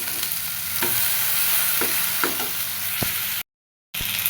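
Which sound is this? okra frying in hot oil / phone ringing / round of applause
okra frying in hot oil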